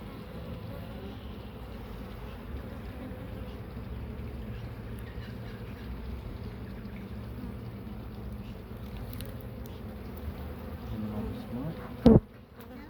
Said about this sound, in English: There's so many bees that I can't even see what's going on